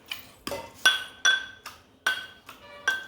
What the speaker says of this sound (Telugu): ఈరోజు చూడండి మేము చింతపండు వేసేస్తున్నాం. వేసేసి మళ్ళీ దంచాలి.